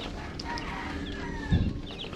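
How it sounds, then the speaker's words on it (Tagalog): Newly hatched Kanoypi chicks peep faintly under a lamp in a home incubator, thin high chirps scattered over a steady low rumble, with one dull thump partway through. "Ito na yung mga sisiw mga Kanoypi na napisa dyan sa aking incubator"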